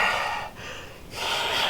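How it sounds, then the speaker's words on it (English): Heavy breathing comes over a phone line in the video game Lost Judgment, two sharp, close breaths or snorts separated by a brief quiet pause. "Just hear breathing over the phone."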